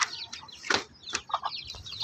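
Month-old chicks feeding on rice hull bedding, with a dense chorus of high peeping and chirping, a few louder bursts, and soft scratching and rustling close by.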